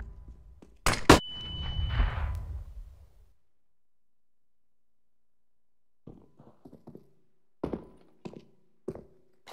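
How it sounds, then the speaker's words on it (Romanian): A flashbang grenade in the shooter game CS:GO: sharp bangs with a ringing tone and a rumbling burst, then silence and a few scattered thuds and footstep-like clicks. "I'm throwing a flashbang."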